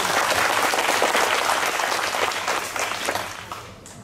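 Children and adults clapping at a summer youth camp gathering, a brisk burst of applause that starts full and gradually thins out and fades toward the end.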